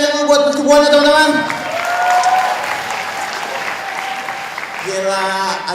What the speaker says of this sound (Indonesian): Boleh minta tepuk tangannya dulu buat persembuhannya teman-teman